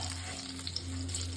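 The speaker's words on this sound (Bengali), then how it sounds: "আমি এই মাছগুলো এখন ভেজে নিলাম।" Fish fries in hot mustard oil, giving a steady, close sizzle with a faint low hum underneath and no talking.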